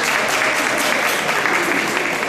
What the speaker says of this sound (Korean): 예, 긴 박수로 맞이해주십시오.